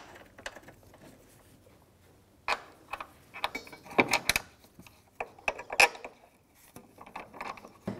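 A ratchet with a 14mm socket drives engine mount bolts on a 2001-2007 Volvo V70, making irregular bursts of quick clicking with pauses and metallic creaks, close and fairly faint.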